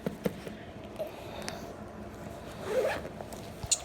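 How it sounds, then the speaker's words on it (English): A zipper is pulled along a packed bag in one close, scratchy run with a few small tugs and clicks, heard alone in a quiet room. "And it just zips up like that."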